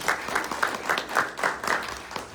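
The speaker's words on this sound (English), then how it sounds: "Give yourselves a round of applause." A small audience at an evening community forum on homelessness, hosted at a church, gives a faint round of applause, with the claps arriving in a fairly regular pulse for a couple of seconds.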